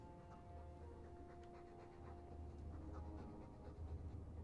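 A dog's breathy panting in the fantasy role-playing game Dragon Age 2, steady and continuous throughout, with a faint low hum underneath and no talking.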